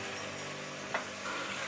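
Mutton trotters, eight goat feet weighing about a kilo, fry in a pot as they are stirred, giving a steady broadband sizzle with one brief scrape partway through.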